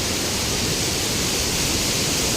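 A heavy cloudburst over a village pours down while floodwater rushes past, a dense, loud, unbroken roar of rain and flowing water that stays constant with no voices.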